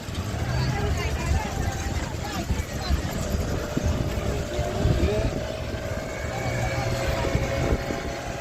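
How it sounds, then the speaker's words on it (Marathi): Constant droning motorboat engine rumbling nearby on the Krishna–Koyna river confluence at Karad, with the rush of water and wind throughout and people talking over it. "त्याचा स्पीड बोट सारखाच आवाज येतो बघा ना"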